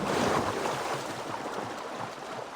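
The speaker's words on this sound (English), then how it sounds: "don't know where the splashing noise was." Water splashing and sloshing in Assassin's Creed Valhalla, a steady wash of surf-like noise that starts loud and settles into a continuous, slightly softer rush with no voices.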